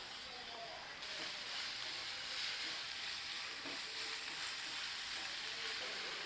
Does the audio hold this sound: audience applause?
no